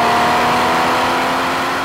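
A Porsche Cayman 981 engine winds up toward 6,000 RPM, giving a loud, sustained, even mechanical drone with steady tonal whine throughout.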